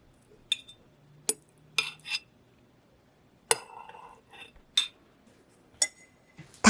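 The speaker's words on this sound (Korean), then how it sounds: "유리병에 담아볼까요?" Carrot salad is spooned into a glass jar, with sharp clinks of a metal spoon against glass ringing out in a series of separate strikes, close and clear in a quiet kitchen.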